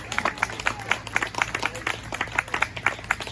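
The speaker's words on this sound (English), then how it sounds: "Give them a nice round of applause." An audience applauds a reserve champion black heifer at a livestock show, with steady scattered clapping throughout and a few voices underneath.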